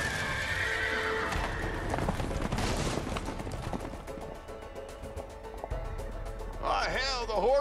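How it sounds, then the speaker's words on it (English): Horses in the video game A Way Out neigh and whinny near the end while hooves clop throughout, a busy mix of loud game sounds and scattered clatter behind them. "the horses are escaping"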